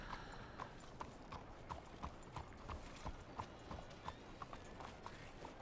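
A horse's hooves clip-clop at a steady walking rhythm in Red Dead Redemption 2, each strike crisp and evenly spaced over a soft, constant background hiss.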